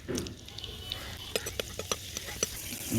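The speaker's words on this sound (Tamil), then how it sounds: "இப்போ எண்ணெய் சூடாகிட்டு" Whole spices and leaves crackle in hot oil in a pan for a creamy white chicken gravy, with soft sizzling and a few sharp pops and clinks of a utensil against the pan.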